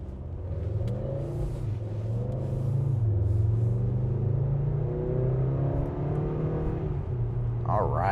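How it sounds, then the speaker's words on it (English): A 2025 Acura TLX A-Spec with a 2-liter four-cylinder engine accelerates smoothly from a stop, its steady engine drone rising in pitch and holding loud and close throughout. "we're gonna hit the accelerator out of brake hold in normal mode"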